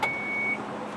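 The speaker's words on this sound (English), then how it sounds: "To close the lift gate, just press on this button. It will beep" A 2013 Chrysler Town and Country minivan's power lift gate gives a single short, clear beep as it starts closing, followed by a steady faint electronic tone and quiet motor hum.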